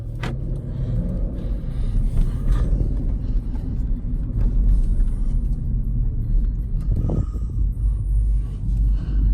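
Road noise heard from inside a car as a Nissan Z drives close behind: a loud, continuous low rumble of engines and tyres with a few brief knocks and clicks.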